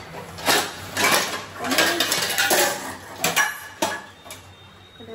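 Steel dishes, pots and utensils clatter and clink in a home kitchen, a busy series of sharp metallic knocks and rattles at close range, without talk.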